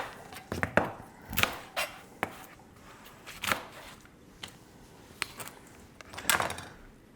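Kitchen knife slicing down through the middle of an onion on a cutting board, a scattering of sharp, close chopping knocks at uneven intervals with quiet pauses between.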